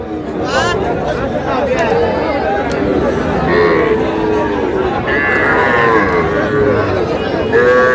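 Cattle moo repeatedly at a busy livestock market selling small bulls and heifer calves in Shariatpur, with drawn-out lowing calls over a constant crowd hubbub and nearby talking.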